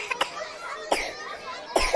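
A child gives three short coughs spaced about a second apart, close and clear, with quiet background between them.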